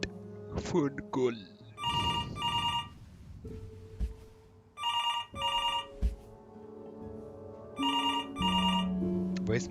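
In the game Before Your Eyes, a telephone trills in three evenly spaced double bursts, loud and clear over soft background music, with a person talking at the start.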